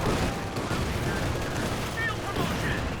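Dense, continuous rifle fire, machine-gun bursts and heavy cannon and artillery booms from a Company of Heroes 2 World War II strategy battle, loud and overlapping without a break.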